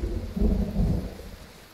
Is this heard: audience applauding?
no